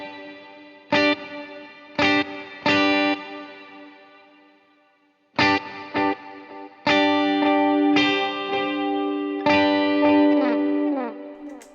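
Ambient electric guitar run through delay and reverb, chords and plucked notes ringing out in separate strikes, each trailing into long echoing repeats and washy decay, played alone.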